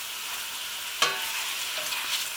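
Mushrooms and peppers fry in a pan for a vegan stroganoff, a steady sizzle with one sharp stir or scrape at the start and a few softer ones later, close and without talk.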